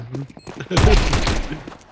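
A sudden burst of rapid Tec-9 gunfire in a video game erupts after a moment of talking, loud and close, rattling for about a second with voices around it.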